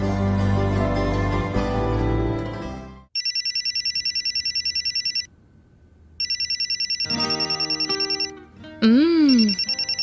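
A telephone rings in repeated electronic bursts after a swell of music, pausing briefly before ringing again, loud and close, with a short voice-like sound near the end.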